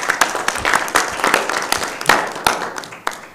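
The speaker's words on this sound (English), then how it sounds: "Maybe they deserve a round of applause, don't they?" A conference audience at an African critical minerals programme gives a round of applause, clapping in uneven bursts with distinct sharp claps standing out from a thinner crowd.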